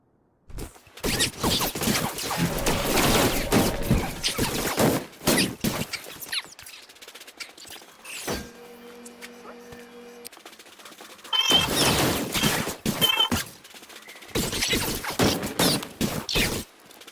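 Gunfire bursts from a Star Wars: The Old Republic battle on Alderaan: two long stretches of loud, rapid shots crack and clatter, separated by a quieter mechanical hum and tones.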